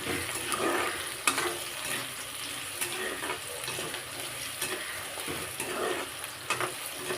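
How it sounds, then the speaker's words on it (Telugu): Onions, green chilies and dry red chilies fry in oil in a pan for an amaranth leaf curry, with a continuous loud sizzle and a spoon stirring and scraping rhythmically through it, close by. "ఆనియన్స్ పచ్చిమిర్చి ఎండుమిర్చి వేసాను ఇది ఒకసారి కలుపుకుందాం"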